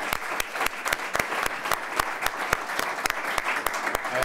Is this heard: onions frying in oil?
no